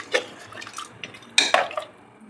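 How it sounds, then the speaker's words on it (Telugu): Water splashes into a pot of Telangana-style chicken curry with tamarind leaves, followed by a few sharp clinks and scrapes of a spoon stirring against the pot, close and fairly loud. "నీళ్ళు పోసేసి మళ్ళీ ఒకసారి ఇట్లా కలిపేసేసి"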